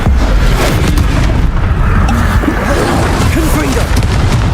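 Incendio fire spell cast in Hogwarts Legacy: a loud, sustained roaring blast of fiery rumble that fills the whole moment, with a voice speaking over it.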